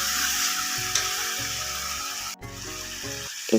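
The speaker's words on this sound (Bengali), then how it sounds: "এখন ভেজে রাখা আলুটাও আমি চিকেনের সাথে দিয়ে দেব যাতে একসঙ্গে ভালো করে কষানো হয়" Chicken and fried potatoes cooking together in a pan for a home-style chicken curry: a steady, moderately loud sizzle and hiss continues throughout, with a brief dip near the end and no voices.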